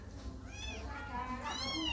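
A tiny orphaned domestic kitten, about four days old, gives a couple of thin, high rising-and-falling meows close by against a low background hum.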